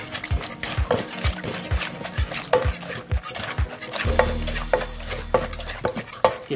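Ingredients for a spicy cockle salad pounded in a mortar with a pestle, a run of heavy rhythmic thuds about twice a second, close and loud, with a low rumbling scrape midway before the pounding resumes.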